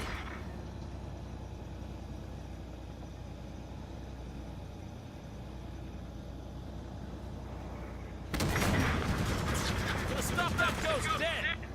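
An enemy Ghost vehicle in Halo 5: Guardians opens fire near a bridge. Its rapid bursts of plasma fire erupt suddenly and loudly over a steady low engine rumble, lasting several seconds near the end.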